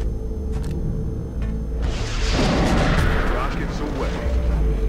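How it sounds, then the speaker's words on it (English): A rocket launch and explosion in XCOM Enemy Unknown: a few light clicks, then a loud, close blast with a rushing, crackling tail that dies away slowly. "Rockets away."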